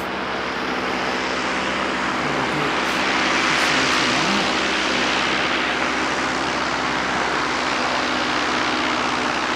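Qantas flight QF137, an airliner, taking off on runway 29: a steady, loud roar of jet engines builds and holds throughout, broad and continuous without pause.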